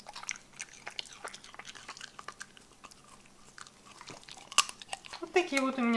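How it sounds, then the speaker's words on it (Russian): A dog chomps and chews persimmon, with soft, close, wet smacking and crunching bites in an irregular rhythm, and a voice speaks near the end. "Чавкает."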